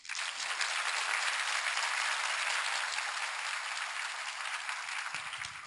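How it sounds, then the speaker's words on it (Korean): A lecture hall audience at a court officials' training session claps continuously, a thick, even wash of applause that stays loud throughout with little variation. "맞으면 박수 부탁드립니다"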